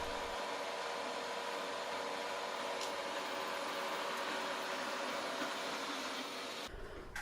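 A low, steady whirring motor hum from a Danhui NR15 robot vacuum with a mopping function runs continuously at moderate volume, shifting slightly just before the end.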